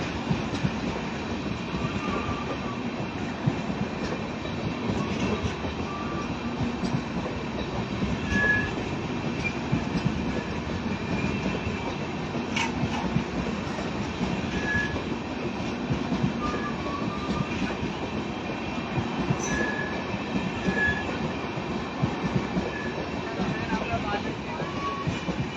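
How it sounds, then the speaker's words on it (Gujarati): Banaras-Veraval superfast express train moving through Jetpur railway station, a loud continuous rumble of rolling wagons with rhythmic wheel clatter and occasional squeals, steady for the whole stretch. "આ બનારસ ટ્રેન આપ અહીંયા જોઈ શકો છો."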